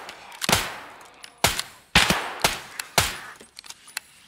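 Gunfire in the Escape from Tarkov video game: four sharp, loud shots spaced about half a second apart, followed by fainter trailing cracks, with no talk over them.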